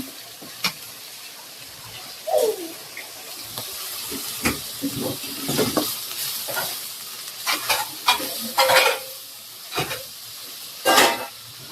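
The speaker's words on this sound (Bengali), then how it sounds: "তো সেই জন্য এই যে মশলা কষাই নিতেছে।" Spice paste for mirka fish bhapa fries in a pan, scattered scraping stirs and clatters over a low sizzle, close by, with some brief voices in the background.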